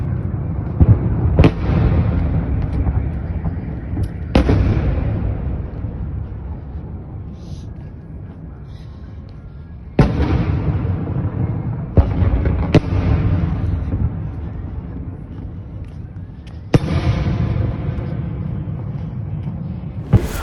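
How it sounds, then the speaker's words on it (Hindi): Bombing explosions in Mariupol, Ukraine: about half a dozen heavy booms go off several seconds apart, each with a sharp crack and a long rumbling tail over constant low background rumble. "मारियोपोल के जिस इलाके में रूस का कब्जा है वहां पर यूक्रेन ने बमबारी की है।"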